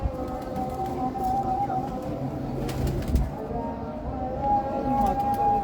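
Soft, low coos of breeder pigeons repeat in the background over a steady ambient hum, with occasional faint fluttering.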